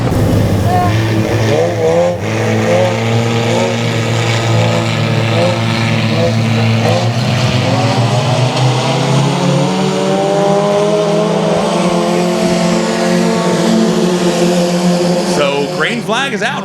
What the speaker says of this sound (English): green flag is out right here. Gonna have a couple lap shootout.